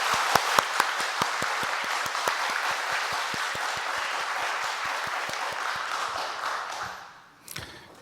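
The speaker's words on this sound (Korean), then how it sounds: "박수로 축복합니다." A church congregation applauds warmly after new members are welcomed, steady dense clapping with a few sharp louder claps, lasting about seven seconds before fading out, followed by a brief thump.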